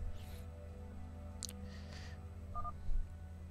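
A brief electronic telephone dialing tone, a short two-note beep, sounds once over a steady low hum and faint background noise during a StarCraft Terran versus Zerg game broadcast.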